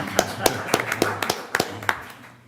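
A few sharp, separate hand claps from one person at a borough council meeting, about a dozen uneven slaps over two seconds in a quiet room, fairly faint and close.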